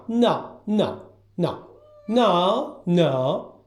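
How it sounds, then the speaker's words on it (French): Five insistent meows in a row, loud and close, each a drawn-out, whiny cry with short pauses between them. "Taigo, t'es toujours le bébé à miauler avec Ruby."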